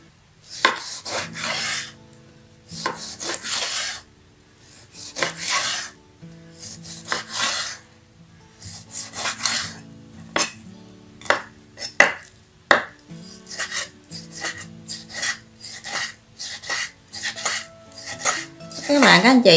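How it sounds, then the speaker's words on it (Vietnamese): A knife dices pork fat on a cutting board for homemade Vietnamese lap xuong sausage, a steady run of close, loud chopping strokes in quick bursts with brief pauses, heard alone without talk. "Và cái phần mỡ này á thì mình sẽ xắt cái hạt lựu nha."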